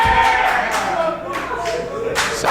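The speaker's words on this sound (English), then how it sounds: "Sassy Steffi not too happy with the comments she's hearing from the crowd." Wrestling crowd heckling wrestler Sassy Steffi, loud indoor crowd noise with shouted voices and jeers swelling and fading in bursts, close and dense.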